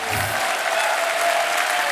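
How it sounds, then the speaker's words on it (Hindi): A studio audience applauds on The Kapil Sharma Show, a televised comedy show. The clapping is dense, steady and continuous, and close and full for the whole stretch. "एक बार जोरदार तालियां हमारे मेहमानों के लिए।"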